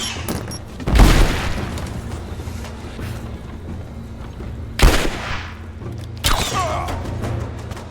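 Explosions boom in the Rise of the Tomb Raider video game, with three heavy blasts and their rumbling tails spaced across a tense combat soundscape, one loud near burst followed by two more.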